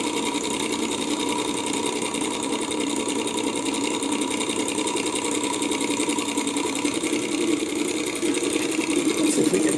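A small Stirling engine spins a propeller nonstop, giving a steady close mechanical whir with a fast, even rattle that holds constant throughout.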